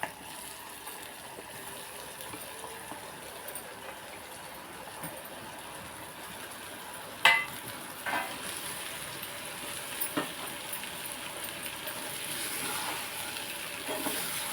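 Bottle gourd pieces fry and are stirred in a clay pot for a milky curry, a soft steady sizzle punctuated by a few dull knocks and scrapes from the stirring, with no speech.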